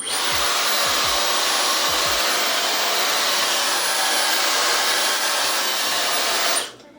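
Hair dryer fitted with a diffuser running steadily on heat while drying curly natural hair, a loud, even whooshing blow for several seconds before it cuts off abruptly near the end.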